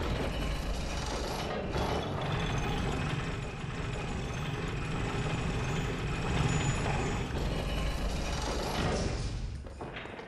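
A Bloodborne elevator grinds along with a continuous mechanical rumble and clanking, steady and fairly loud throughout, with no one speaking over it.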